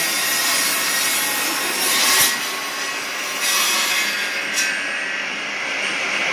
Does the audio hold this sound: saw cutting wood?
yes